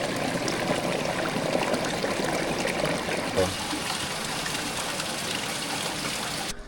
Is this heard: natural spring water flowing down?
yes